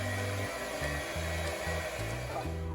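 An electric mixer beating pineapple cream cheese pound cake batter, a loud, close motor whir whose pitch steps up and down repeatedly as the beaters work, with no speech.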